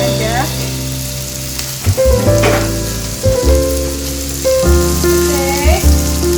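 Onion, paprika and oyster sauce fry in a pan with a steady close sizzle, broken by a few clanks and stirring scrapes of a utensil.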